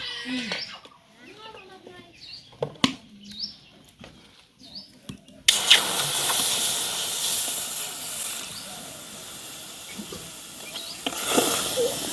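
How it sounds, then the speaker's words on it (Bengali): Milk poured into frying semolina halwa in a pan, bursting into a loud, continuous hiss and sizzle that starts abruptly partway through, after quieter stirring and faint voices earlier. "ভাজা হয়ে গেল একটু দুধ দিব দিয়ে নাড়াচাড়া করে"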